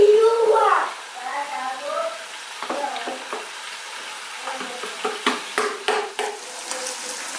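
Spices, curry powder and minced ginger-garlic paste stirred into sizzling oil in a pot while cooking a family lunch, a soft frying hiss with scraping spoon strokes that grow busier near the end, with people talking early on.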